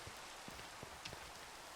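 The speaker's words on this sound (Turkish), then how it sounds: "Yağmur da başladı." Steady rain falls in the video game Minecraft, a soft continuous hiss with faint patters of drops, quiet and even throughout with no voices.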